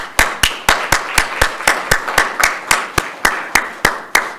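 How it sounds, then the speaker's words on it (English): A group of new graduate students at a program orientation applaud themselves: about sixteen sharp, evenly spaced claps in a steady beat, loud and close, with no talk over them. "I'd like you to give yourselves a round of applause for reaching this point"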